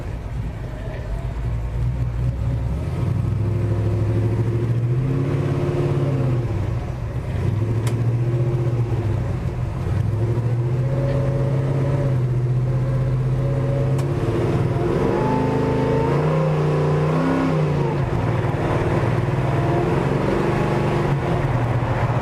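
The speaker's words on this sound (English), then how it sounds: "So let's take a cruise in this 57 Chevy." A deep, rumbling 1957 Chevrolet 3100 restomod pickup engine drones steadily, revving up and easing off in long swells as it drives, loud and close throughout.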